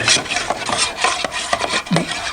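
A flat-ended stick stirs paint in a can, scraping the bottom during restoration of a small oak rocking chair, giving a steady series of close, loud rubbing and scraping strokes with no talk.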